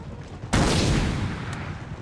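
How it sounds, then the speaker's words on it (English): Napoleon Total War battle: many musket units fire their volley at once, one sudden loud crackling burst that rolls and fades over about a second, followed by a faint second report. "musket volley all at the same time"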